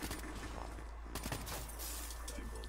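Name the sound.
shotgun fire in Black Ops 3 video game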